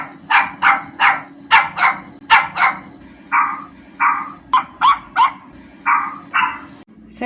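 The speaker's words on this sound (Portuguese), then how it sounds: "Latido de cachorro Shih Tzu" A Shih Tzu puppy barks in a quick string of about a dozen sharp, high yaps, close and loud, bunched in uneven bursts with short gaps over a faint background hum.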